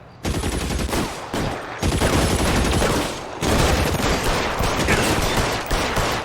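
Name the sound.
gunfire in a shootout in the video game L.A. Noire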